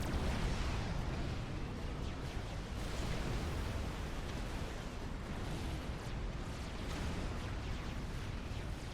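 Incoming artillery fire in the Supreme Commander: Forged Alliance strategy game, heard as a steady, dense rumble of overlapping distant explosions with no break throughout.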